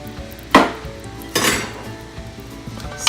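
A spoon scrapes and clinks against a pot while stirring pigtail and pigfeet soup with yam pieces, two sharp metallic strokes over a low kitchen hum.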